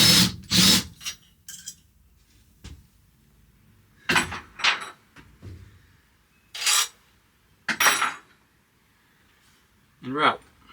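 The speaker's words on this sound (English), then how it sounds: "I need to pull these bolts all the way out so this bracket can come off" Tools clatter and knock while bolts come out of a Dometic RV air conditioner bracket. Short bursts of metallic handling and scraping are separated by quiet gaps, close by, with brief talk in between.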